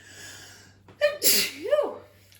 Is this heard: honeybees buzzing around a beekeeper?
no